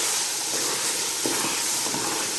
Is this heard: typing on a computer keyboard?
no